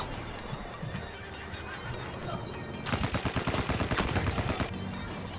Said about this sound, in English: Why are people shooting you?